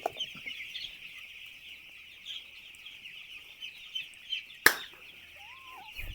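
Six-day-old chicks in a poultry shed cheep and peep in a dense, continuous chorus, with a sharp click near the end and no talk.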